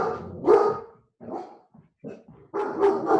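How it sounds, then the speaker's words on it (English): A dog barks in several sharp bursts with brief pauses between them, fairly close and loud, during an indoor exercise class. "dog is displeased with your performance"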